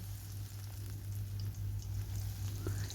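Spinach pakora batter frying in hot oil, giving a faint, continuous sizzle with scattered soft pops over a low steady hum, no talking.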